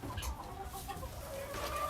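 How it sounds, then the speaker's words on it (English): White Leghorn chickens cluck on a farm, giving several overlapping short calls at moderate distance over a steady background hum. "anytime you hear chickens, it is most likely that white leghorn"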